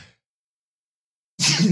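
A single sharp, loud burst at the end after a brief faint breath and a long silence, close to the mic, like a sudden sneeze.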